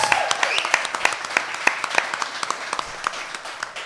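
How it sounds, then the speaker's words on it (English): A live crowd at Flingers claps for the in-house audience during a grand finale event, scattered individual claps standing out over a moderate, uneven round of applause that thins toward the end. "Round of applause for everybody in-house."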